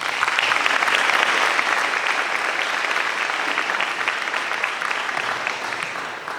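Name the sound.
applause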